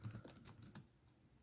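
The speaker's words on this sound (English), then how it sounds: "I'm typing right now" Quiet, rapid clicking of fingers typing on a computer keyboard indoors, with irregular soft keystrokes running throughout.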